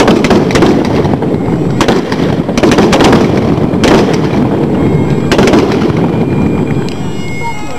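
Soldiers fire period rifles one after another in a demonstration at Halifax Citadel. Loud, sharp reports crack out irregularly over heavy crowd noise and echo.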